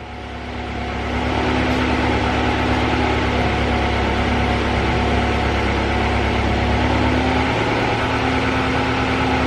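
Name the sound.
car engine turning on and idling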